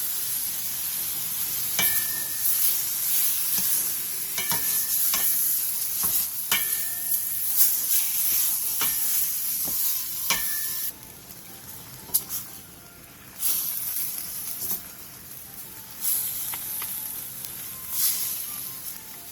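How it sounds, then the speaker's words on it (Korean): Pork is stir-fried over high heat with aged kimchi, a spoon of sugar and a spoon of soju for kimchi jjigae, giving a steady close sizzle with repeated scraping stirs and a brief lull midway. "고기의 겉면이 반 정도 익었으면 묵은지, 설탕 한 스푼, 소주 한 스푼을 넣고 센 불에서 5분간 골고루 볶아주세요"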